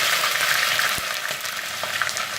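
Onions and bell peppers fry in hot oil with a dense, steady crackling sizzle, close and even throughout, with a few faint knocks and no talking.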